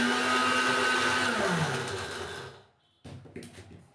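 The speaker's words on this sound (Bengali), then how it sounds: "সব বিস্কুটগুলো একবারে দিয়ে নিই, আগে এটা গুঁড়ো করে নিয়ে আবার গুঁড়ো করব।" Electric grinder whirring loudly as it crushes biscuits into crumbs for a chocolate cake, its motor winding down and stopping, followed by a few rattling clatters.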